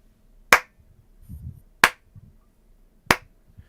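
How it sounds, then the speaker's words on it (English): Three slow, sharp hand claps ring out about a second apart, crisp and close against near silence, with faint low rumbling between them. "a very slow clap."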